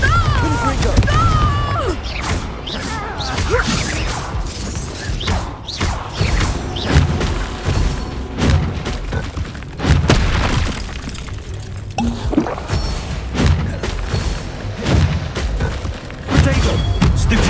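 Spell blasts in Hogwarts Legacy, Bombarda and Confringo, as a rapid barrage of booms, thuds and shattering crashes mixed with combat noise, loud and continuous, with spoken spell incantations over the top.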